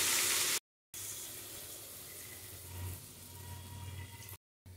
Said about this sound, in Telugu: ఇప్పుడు మనం దీనిలో ముక్కలు మునిగేదాకా వాటర్ పోసుకోవాలి.